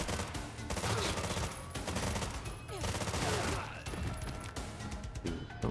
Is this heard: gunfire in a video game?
yes